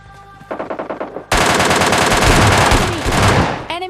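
Rapid bursts of rifle fire from an M14 in the mobile game PUBG Mobile Lite: a few quick separate shots, then a loud, dense stream of sustained automatic fire that fades at the end.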